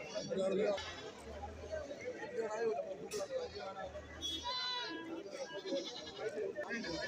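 Goats bleat repeatedly at a crowded outdoor goat market in Kerala on a hot day, their calls rising over steady crowd chatter and nearby voices.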